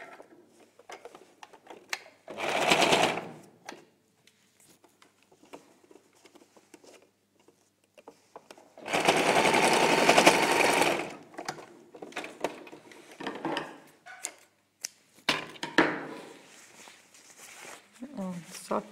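A domestic sewing machine runs in two sustained bursts while stitching a seam on a child's dress, loud and close, with quieter handling noises and light fabric shuffling between the runs.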